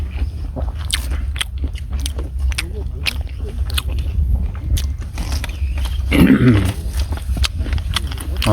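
Webfoot octopus being eaten outdoors while backpacking on an island near Tongyeong, close, moist chewing with clicks and crunches running steadily, a louder squishy burst near the end, and talk mixed in.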